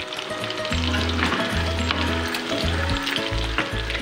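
Chicken pakodi fry in hot oil with a dense, loud, continuous sizzle and crackle close by, steady throughout with no voices.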